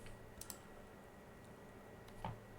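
Quiet typing on a computer keyboard, a few light key clicks scattered over a faint steady hum, close and with no voice.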